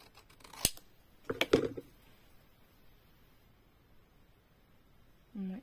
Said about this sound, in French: Je peux couper comme ça, remarquez.